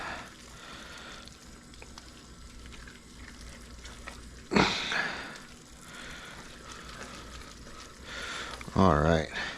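A spoon stirs arroz con pollo in a pan, scraping up the crispy bits stuck to the bottom, with a steady sizzle and frying crackle and a few louder scraping strokes.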